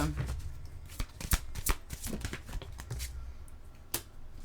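Oracle cards being shuffled by hand, a quick run of crisp riffling snaps and flutters with a few sharper slaps, close and fairly soft.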